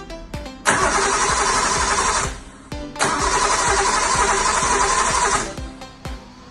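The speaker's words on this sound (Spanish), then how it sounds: "En este segundo giramos el motor de arranque sin gasolina ni nada para ver que gira" Car starter motor cranking an engine with no fuel, two loud whirring bursts of about two seconds each separated by a short pause, close by and with no talking.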